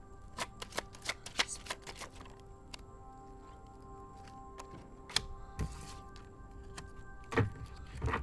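Tarot cards are shuffled in quick, close bursts of riffling and slapping, with scattered taps and softer handling between the louder flurries; no one speaks.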